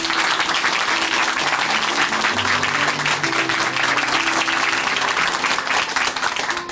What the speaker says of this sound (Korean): 박수로 함께 응원해드리겠습니다